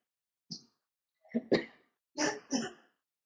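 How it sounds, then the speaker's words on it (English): Several short coughs from someone with a cold, a single one then two quick pairs, close and clear with silence between them. "pardon us for our coughing"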